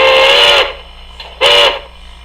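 Model Big Boy 4014 steam locomotive on a Tsunami2 sound decoder sounds its default Santa Fe style whistle: two loud, chime-like blasts, the first about half a second and the second shorter, with a quiet gap between.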